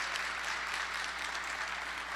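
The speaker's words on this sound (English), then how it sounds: "Give them a round of applause" A crowd at a Chicago Theological Seminary Saturday morning forum claps steadily, a dense, even patter of applause heard from within the room, fairly quiet and without voices.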